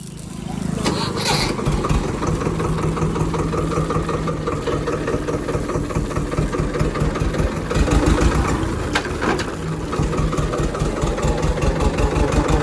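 A tractor engine runs steadily at a rhythmic mid-pitched chug nearby, continuing throughout with a few clanks and knocks, while someone talks over it.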